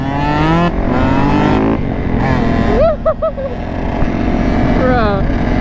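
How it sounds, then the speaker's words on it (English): A Yamaha YZ125 two-stroke supermoto revs loudly nearby with rising, buzzy engine pitch and blips, while a rider talks over the steady engine drone. "Bro, that 2-stroke sounds so sexy."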